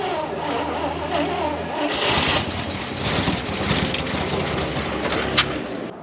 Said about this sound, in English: Now we'll get to trying to start the truck.